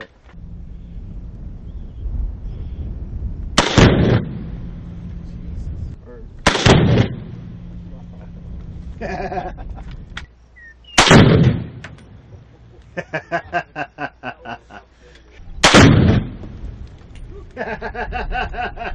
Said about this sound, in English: Everybody needs to play with some dynamite every now and again.